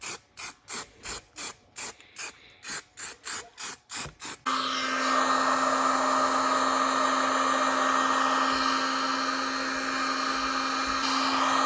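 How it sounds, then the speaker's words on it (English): Heat gun blowing warm air over freshly primed 1989 Kawasaki Ninja ZX7 motorcycle frame in a cool shop: a quick series of short rhythmic bursts, then a steady loud whooshing hum with a constant whine. "get it dried off with some warmth from the heat gun"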